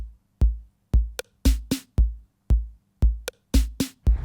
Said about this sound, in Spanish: con el sonido profundo de la KR55 de Korg